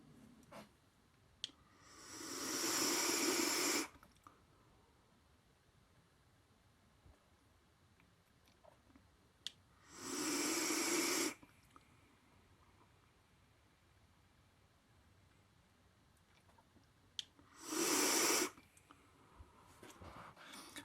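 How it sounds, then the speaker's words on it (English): Three loud, raspy, turbulent draws on a VCMT2 rebuildable atomizer at 125 watts with the airflow fully open, each a hissing rush of about one to two seconds with quiet gaps between. "It has a kind of loud, raspy, turbulent noise to it."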